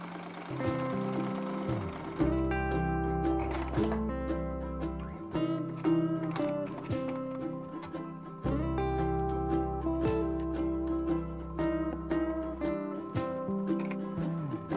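A Singer sewing machine stitches a buttonhole with a buttonhole attachment, giving a steady mechanical run of rapid needle strokes that stops briefly and resumes, with musical tones layered over it and no talking.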